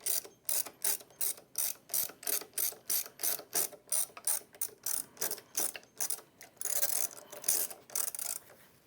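A ratchet tightens the bolt on the buffer brush pulley of an ATLAS floor machine, giving a quick, steady run of sharp, close clicks, about twenty strokes in a row, with no one talking.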